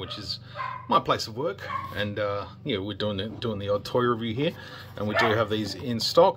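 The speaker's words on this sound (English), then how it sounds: "Excuse the dog in the background." A dog barks and yips in the background of a collectibles shop workplace, scattered short calls heard under continuous close talking from a man.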